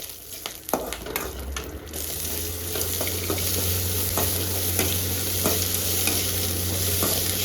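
Onions fry in a pan while a spoon stirs and scrapes them, giving sharp clicks early on. A steady sizzle builds and grows louder, and the stirring strokes continue at irregular intervals. No one speaks.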